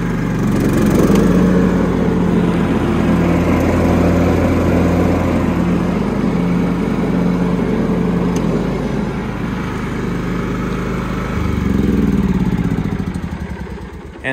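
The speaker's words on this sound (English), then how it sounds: "Let me drive over here to the grass and we'll turn the mower deck on." A John Deere LT110 riding lawn mower runs with its mower deck engaged, a loud, close, steady engine drone with a constant low hum that dips briefly and then swells again, with no talking.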